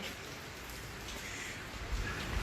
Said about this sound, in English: it's raining out here in fabulous Las Vegas, Nevada